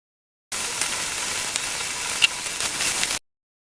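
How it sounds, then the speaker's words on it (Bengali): Chicken pieces fry in spiced oil and masala for biryani, giving a loud, continuous sizzle for about three seconds with one small clink partway through. No one speaks. "গোস্তটাও আমি ভালোভাবে কষিয়ে নিচ্ছি।"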